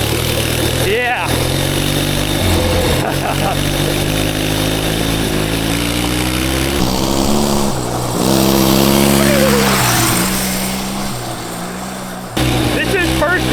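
A twin-cylinder mini bike engine built from junkyard parts, with its carburetor needing tuning, revs loudly and close by, rising and falling through sharp throttle blips with a rough, continuous drone, while a voice talks over it.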